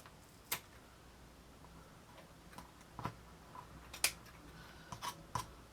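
Scissors make small, crisp snips while trimming craft material for a miniature garden shop model. About eight quiet, separate cuts come at an uneven pace over a hushed background.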